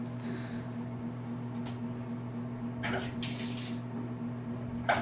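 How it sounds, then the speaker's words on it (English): Quiet, steady stream of water running into a jacuzzi tub in a hotel room, with a low constant hum underneath and a few brief louder splashy bursts partway through. "I like to run a little bit of water"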